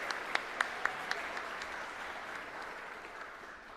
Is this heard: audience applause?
yes